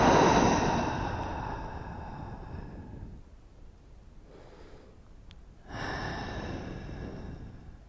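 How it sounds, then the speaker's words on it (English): Slow deliberate deep breaths in a calm relaxation moment: a long audible exhale fading over several seconds, a quiet pause, then another strong breath, close and intimate with no talking. "take some intentional deep breaths"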